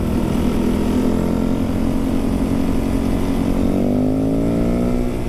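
A 2003 Yamaha WR450F motorcycle engine drones steadily while riding, loud and close throughout, its pitch rising as it revs up through the gears near the end.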